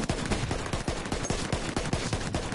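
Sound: gunfire from a video game shooter

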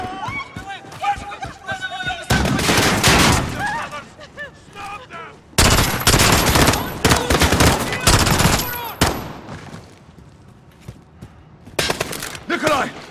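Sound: gunfire in video game Call of Duty: Modern Warfare

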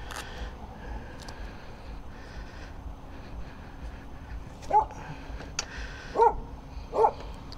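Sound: dog barking

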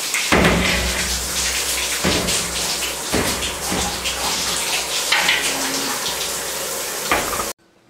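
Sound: shower water running

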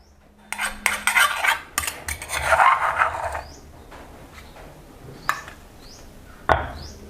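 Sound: pounding red chilies and shrimp paste in a mortar

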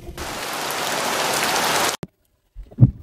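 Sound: heavy rain

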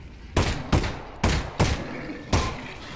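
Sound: gunfire in video game Half-Life: Alyx

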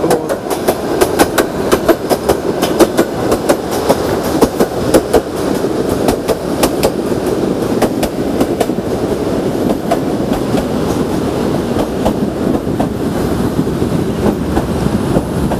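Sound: trains passing on railway near building

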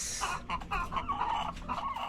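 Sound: chickens clucking

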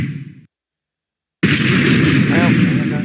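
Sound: explosion in video game Happy Wheels

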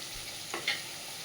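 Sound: potatoes frying in a wok for meat curry

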